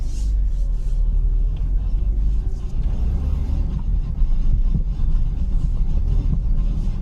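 A BMW E36 328i drives a lap with a suspected worn front differential bushing, giving a steady low road rumble and engine drone throughout, fairly loud and continuous with no talk.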